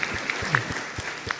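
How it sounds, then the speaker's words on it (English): Brief, moderate applause for the speakers of an international workshop session, with a steady patter of clapping from a small audience. "Please give a big round of applause to the speakers of this session"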